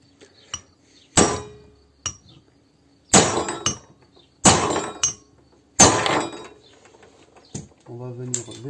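A homemade hammer taps an oil seal into place in an engine being converted from AV7 to AV10. Five or six sharp, close metallic knocks land at uneven intervals, and a short voice follows at the end.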